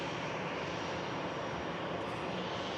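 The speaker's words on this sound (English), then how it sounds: "this EasyJet Europe aircraft" An EasyJet Airbus A320-200 jet arriving at Manchester Airport from Faro roars with a steady, broad engine noise that holds evenly loud throughout, with no voices.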